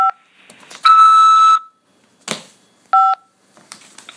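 Short dual-tone keypad beeps from a phone on a prison collect call, a couple of brief presses separated by a longer steady tone and a sharp click, loud and close.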